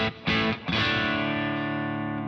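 Electric guitar through a Positive Grid Spark amp with the booster pedal switched on, giving a thicker, more driven tone: two quick chord stabs, then a single chord left ringing and slowly fading.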